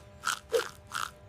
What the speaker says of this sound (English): The pickles on the burger bus go crunch, crunch, crunch.